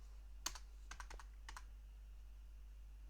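Quick bursts of keystrokes clatter on a computer keyboard over a low steady hum, with about a dozen crisp clicks in the first half before the typing stops.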